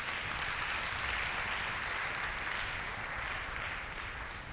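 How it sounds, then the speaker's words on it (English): Dense, sustained clapping fills the room as an audience applauds a group of women on stage at a talk, a steady roar of many hands with no voices over it. "Please give them a round of applause."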